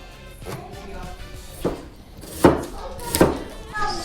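Knife strokes cutting an onion into half rings on a board, a few separate firm chops spaced out in a quiet kitchen, with faint voices in the background.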